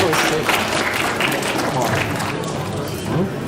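Audience applause at the end of a talk, a dense burst of clapping from a crowd mixed with chatter and voices.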